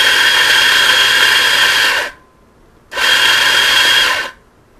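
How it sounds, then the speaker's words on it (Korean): A coffee grinder grinds espresso beans in two loud, steady whirring bursts of about two seconds each. A short silent pause separates the bursts. "에스프레소를 추출할 때 당연히 그라인더를 작동을 해서 커피를 받지만"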